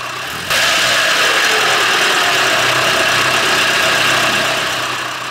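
A car engine runs steadily at idle after a water pump, O-ring and coolant replacement, a loud, even mid-pitched hum starting abruptly and holding throughout with no talk.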